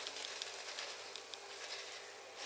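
Kantha bajji fritters frying in hot oil, a steady soft crackling sizzle with scattered bright pops throughout, faint and continuous with no talking.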